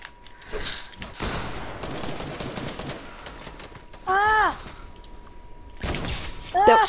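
Gunfire in a shooter video game crackles in quick bursts against busy game noise, with sharp electronic zaps standing out twice.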